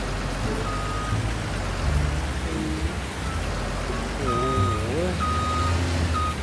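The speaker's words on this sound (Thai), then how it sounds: "แต่ว่าเสียงรถมันจะเบาๆไปหน่อยนะ" Heavy loader in Farming Simulator 19 with a steady low engine drone and a repeating reversing beep that comes and goes, soft and even in level, with a voice speaking faintly underneath.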